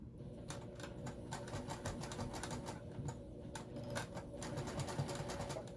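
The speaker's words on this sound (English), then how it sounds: "So when you top stitch, you want to go around about 1/8 of an inch, just along the edge here." A sewing machine top stitches a seam on a purple water bag, a faint rapid ticking run of needle strokes with a low motor hum underneath, steady throughout.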